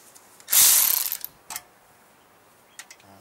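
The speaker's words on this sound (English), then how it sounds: "We'll put this on here and we'll let the ratchet do the work." A ratchet wrench cranks a bolt loose on a Jiangdong JD4000 4000W generator, a loud rapid clicking burst lasting under a second, followed by a short second burst and a few faint clicks.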